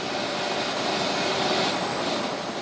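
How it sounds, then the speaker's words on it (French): An Ecureuil six-seat helicopter, fully loaded with bales, keeps its engine running on the ground during unloading, giving a loud, steady, unbroken turbine roar and whine with no pauses. "Le pilote ne coupe pas le moteur."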